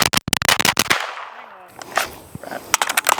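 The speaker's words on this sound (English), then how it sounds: "It's a really quiet suppressor, so you should be able to notice it. I mean, you can really shoot it fast." A pistol caliber carbine fitted with an Osprey 45 suppressor fires a rapid string of loud, close, muffled shots, then goes briefly quiet before a few more quick shots follow.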